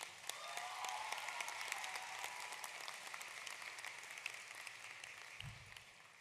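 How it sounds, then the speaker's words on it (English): High school graduates at a class of 2024 commencement applaud themselves, a wide sustained patter of clapping spread across a large crowd, fairly faint and distant, with a brief low thump near the end. "fellow graduates, give yourselves a round of applause because you deserve this"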